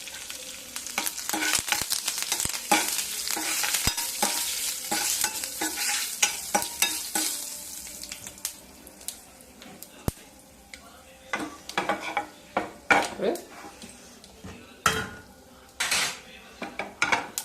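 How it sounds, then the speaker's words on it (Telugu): Curry leaves and garlic sizzle in hot oil for a dal tempering while a spoon stirs and scrapes the pan, with sharp metallic clinks over a steady frying hiss. The scrapes grow sparser and more spaced toward the end. "తాలింపు"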